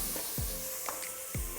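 Biryani masala with tomato sizzles softly in a pan under steady stirring, with a few brief scraping strokes of the spoon over a constant low frying hiss.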